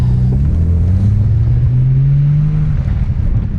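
An Audi B5 S4 running a new tune gives a steady, loud engine drone from inside the car as it pulls away, with a rising tone and a constant low rumble throughout.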